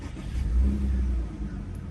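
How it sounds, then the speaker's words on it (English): A Porsche Cayenne engine starts up with a short low rumble that swells, then settles into a steady, even idle heard close by. "let's go ahead and actually start the car up"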